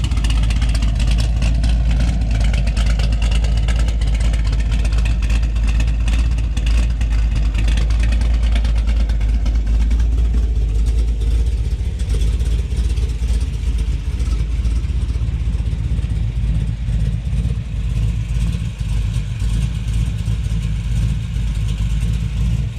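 A 2015 Camaro Z/28 V8 engine with a new cam and exhaust idles with a deep, rumbling burble, steady and loud throughout, with slight fluctuations in tone.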